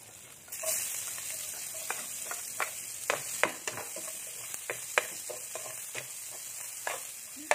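Pancit cooking for breakfast in a pan, with a soft, steady sizzle beneath a quick irregular series of sharp scrapes and taps as a utensil stirs the noodles and vegetables.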